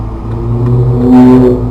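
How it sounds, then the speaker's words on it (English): A manual-transmission car's engine catches and settles into a steady, loud idle hum close by, with a brief rise in revs partway through and no talking. "Clutch in, neutral, shake the stick, start the car."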